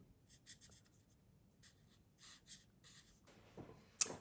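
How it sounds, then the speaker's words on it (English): Marker coloring in a stamped bee image on paper: short bursts of soft scratchy strokes in irregular rhythm, close and quiet, ending with a sharp tap. "I'm just going to color in all the sections of both of the bees"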